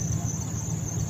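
A high, steady screech comes from the engine bay of a 2012 Ram 1500 Tradesman with a 5.7L Hemi V8, sounding loud and continuous over the low idling rumble of the engine.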